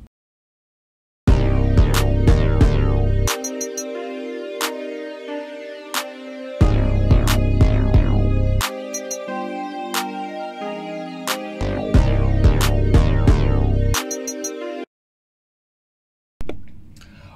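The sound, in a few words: drum mix playback with bus compression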